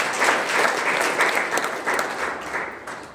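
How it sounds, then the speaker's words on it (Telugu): Sustained applause from an audience at a public meeting in Gajwel, steady and dense for about three seconds with no pauses, fairly loud and close. "ఒక్కసారి గ్రాండ్ క్లాప్ సార్"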